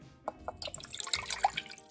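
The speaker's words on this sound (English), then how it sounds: "230 mils of water that I'm gonna put in my Temu multi-cooker" Water poured into a Temu multi-cooker pot, heard as a short run of light drips and splashes, soft and close, with no talking.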